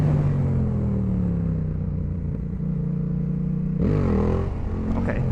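A Yamaha MT07 motorcycle roars loudly and close during wheelie practice, its engine note sweeping up and down through revs with a sharp surge near the end.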